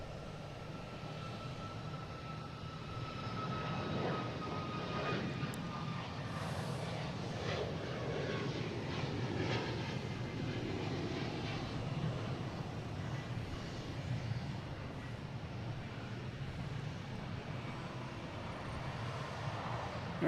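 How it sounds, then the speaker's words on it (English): A Southwest Boeing 737 MAX 8 taking off from Boston Logan toward Baltimore Washington, a sustained moderate jet roar with a faint descending whine, somewhat distant. "we have a Southwest taking off, hitting the Baltimore, Washington, flight 1898, 737 MAX 8"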